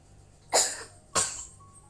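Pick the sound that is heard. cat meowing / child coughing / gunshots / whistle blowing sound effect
child coughing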